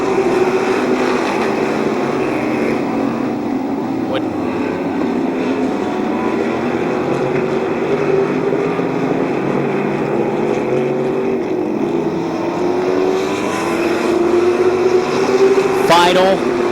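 Modified race cars running side by side through turns three and four at Midvale Speedway, a steady loud engine roar from start to finish with a public-address announcer talking over it.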